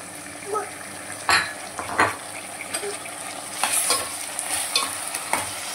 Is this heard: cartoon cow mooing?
no